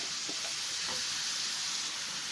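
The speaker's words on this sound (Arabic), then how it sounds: "هحط البصله اول ما السمنه والزيت يسخنوا" Onion sizzling in hot ghee and oil in a pan, a steady bright frying hiss close by with a few faint soft clinks early on, with no voices.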